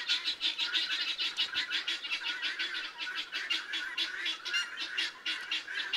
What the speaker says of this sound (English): And here come the remaining guineas.